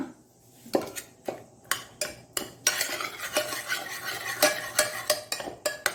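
A ladle mashes cooked toor dal for a temple-style thili saaru, giving a quick run of rhythmic clattering strikes against the pot, close and fairly loud, with no talk.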